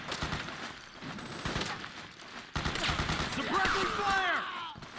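Gunfire in Metal Gear Solid 4 during a firefight, rising from scattered shots under steady background noise to a louder, denser burst of fire in the second half, with a voice talking over it and sweeping tonal effects.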